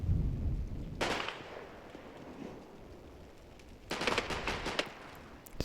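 Gunfire in a wargame set around Wiltz, bursts of distant crackling shots hitting trees, two clear volleys over a low ambient rumble, heard without talking.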